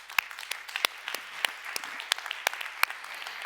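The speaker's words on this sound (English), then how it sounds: "Please a warm applause for Mechthild." An audience applauds at a high-level EU hydrogen policy conference, a fairly sparse, moderately distant spatter of claps with several sharper individual claps standing out.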